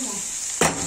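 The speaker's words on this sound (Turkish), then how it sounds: "Şöyle salçamızı kızartalım biraz." A sharp burst of sizzling as tomato paste hits a hot pan, following a steady background hiss of frying.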